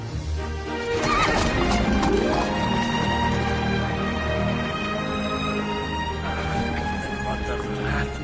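In a Jackie Chan movie scene from Shanghai Knights, a horse whinnies loudly and close while its hooves clip-clop steadily on the ground, set against a busy street background.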